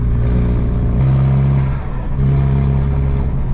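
A homemade vehicle's engine revs steadily and loudly up close, with a deep, low rumble like a diesel truck and a brief dip in the middle before it picks back up.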